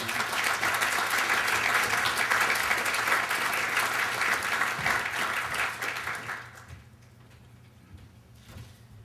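An audience applauds at a lecture on land value capture, welcoming a keynote speaker: dense, sustained clapping for about six seconds that then fades away into a quiet room.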